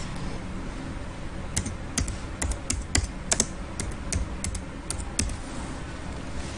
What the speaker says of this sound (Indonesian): jadi kita ketik di sini Peter White.